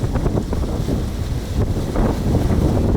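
Wind rushing over a sailing boat at sea, a continuous loud roar buffeting the microphone with low rumbling gusts and no voices.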